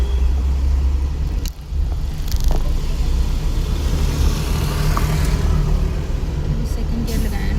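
A learner revs a car engine while pulling away on a narrow single road during a driving lesson, a steady close rumble that briefly dips and then holds. An instructor talks over it.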